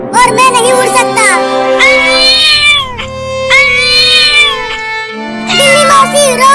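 A cartoon mother cat cries and meows over and over in a children's comedy, long wavering wails that rise and fall between short pauses, loud and close.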